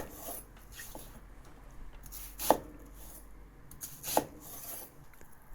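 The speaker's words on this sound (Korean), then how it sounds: "손질이 끝난 양파는 화면과 같이 네모난 모양으로 썰어주시고요" A knife cuts a prepared onion into square pieces on a board, giving two sharp, close chops against a quiet background with faint handling sounds between them.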